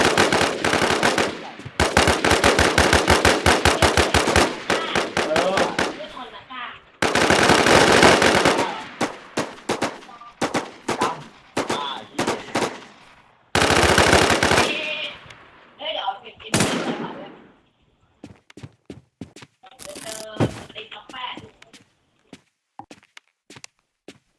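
Gunfire in the survival shooter game Infestation: loud, close automatic weapons fire in long sustained bursts, then shorter volleys and scattered single shots toward the end.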